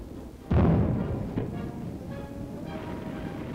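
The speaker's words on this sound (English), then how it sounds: "Recoilless rifles give the infantry artillery firepower." A recoilless rifle fires during a demonstration, one heavy sudden boom followed by a rolling decay, a smaller report shortly after, then a low outdoor rumble.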